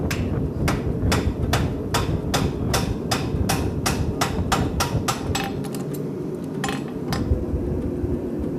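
A farrier hammers a horseshoe off the horn of an anvil while shaping a square toe, about fourteen bright ringing blows in a steady, even rhythm with a brief pause near the end, close and loud.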